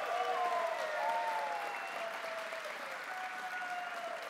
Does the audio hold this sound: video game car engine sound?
no